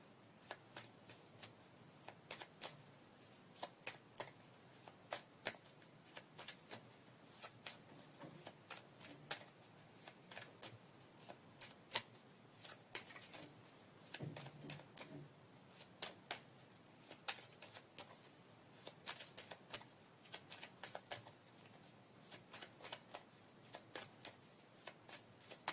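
Playing cards shuffled over and over during a card reading, a long run of crisp riffling and flicking bursts, close and steady, with soft rustles between and no talking.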